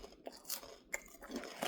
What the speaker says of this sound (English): I like the crunch.